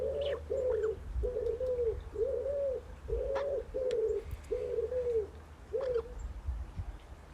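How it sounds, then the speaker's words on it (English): A wood pigeon coos in a steady series of about nine soft, muffled phrases, evenly spaced and fairly close, over a low background hum with no talking. "Some bonus wood pigeon for you."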